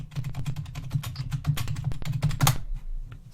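Rapid typing on a computer keyboard running Windows 3.1, a dense run of close, crisp key clicks with a brief pause near the end and no voices.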